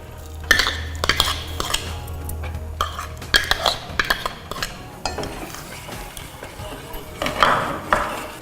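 Paneer goes into a pan of boiled-down milk for payasam, heard as a series of close clinks and scrapes of a spoon against the metal pan, irregular and with no voices.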